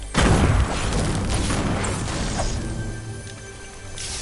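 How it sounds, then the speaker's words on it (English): A grenade blast in a video game: one loud, close boom right at the start, then a long rumbling tail of debris and fainter crashes that slowly fades. "Call me some nades. I'm gonna throw them all over there."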